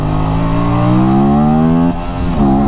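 An Aprilia RS 457 motorcycle accelerates hard through its gears, a loud, close engine note climbing steadily in pitch before a brief dip at the shift and another rise, with no talk.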